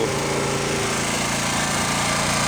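A Honda 3300 W petrol generator runs with a steady, close mechanical engine drone, continuous and alone through the brief stretch.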